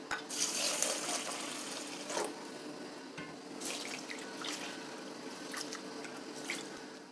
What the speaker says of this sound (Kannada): ಈಗ ಇದನ್ನು ಒಂದು ಎರಡು ಮೂರು ಸಲ ಚೆನ್ನಾಗಿ ತೊಳಿತೀನಿ